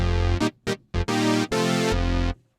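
Roland Juno-106 synth patch with a hard attack and quick release, playing a short phrase of loud, bright sustained notes separated by abrupt cutoffs and brief gaps, heard alone with no voices.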